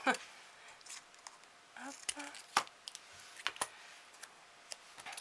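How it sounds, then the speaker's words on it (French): Scissors snip paper strips for a Christmas card in a series of short, crisp, irregular cuts, close and fairly quiet. "Je vais découper ça en petits bouts."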